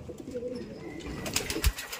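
A racing pigeon coos softly at close range, with low murmuring calls followed by a few sharp knocks and rustles near the loft.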